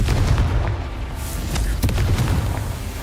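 Confringo blasting spell from Hogwarts Legacy going off as a deep, rumbling explosion boom that fills the whole moment, loud and close, with a sharp crack partway through.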